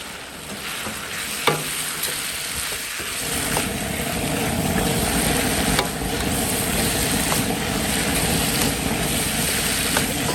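Beef tossed into a hot wok with chili peppers sizzles and crackles steadily, with continuous stirring scrapes and a strong, sustained frying hiss that swells after the meat goes in.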